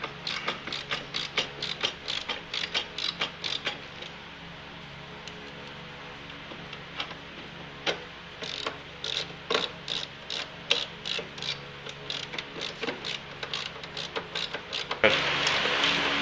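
Factory screws are driven back into a ProClimb airframe board with a ratchet, giving rapid bursts of close, crisp clicking that pause and resume several times, with a short louder stretch near the end.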